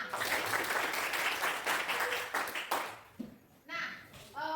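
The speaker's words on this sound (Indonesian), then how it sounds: "tepuk tangan untuk kita semua" A class gives itself a round of applause, a brief patter of claps from a small group in a classroom that fades out, followed by a little speech.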